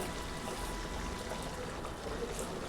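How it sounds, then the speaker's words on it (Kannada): Water is poured into a blender jar holding ground masala, a soft continuous splashing trickle lasting a few seconds, faint and close. "ಅದಕ್ಕೊಂದು ಜಾರಿಗೆ ಸ್ವಲ್ಪ ನೀರು ಹಾಕಿ ಅದನ್ನು ಸೇರಿಸ್ಕೊಳ್ಳೋಣ"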